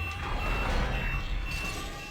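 Repeated electronic warning beeps sound in Dead Space as the air turns foul, a steady, moderately loud alert over a low ambient game hum with no talking.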